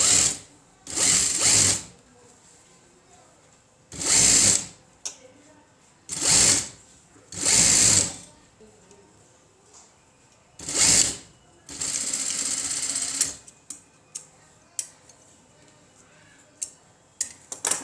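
A sewing machine runs a blouse side seam in about six short bursts of rapid stitching, each lasting around a second, separated by quiet pauses with faint talk and small handling noises.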